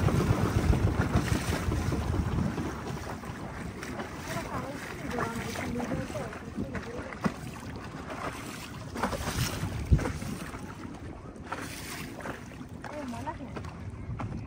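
Water laps and splashes around a small dinghy on dirty water, with wind buffeting the microphone and people talking nearby.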